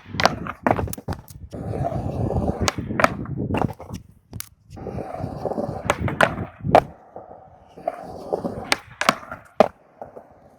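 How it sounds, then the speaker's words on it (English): Skateboard on pavement attempting a switch ollie into a tail slide: wheels roll and rumble, then sharp pops, clacks and board slaps ring out in irregular bursts, loud and close. "I focus so much on pressing into a tail slide that I don't think about sliding my foot up to actually do a switch ollie"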